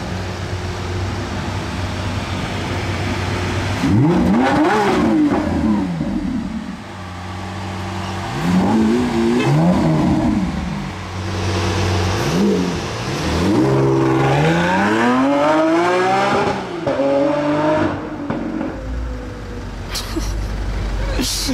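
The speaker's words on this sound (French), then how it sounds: "Il a fait une accélération aussi délirante que sa voiture." A BMW M4 accelerates hard, its engine note rising in repeated sweeping revs through several gear changes, loud and close, amid crowd and traffic background noise and people talking.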